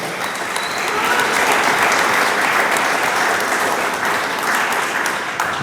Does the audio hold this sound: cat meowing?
no